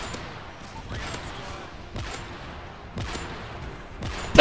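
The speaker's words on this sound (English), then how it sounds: "It sounds like an MSR. It reloads like an intervention." Custom sniper rifle in the video game MW3, sounding like an MSR, fires four or five fairly faint reports about a second apart, ending on a sharper, louder burst.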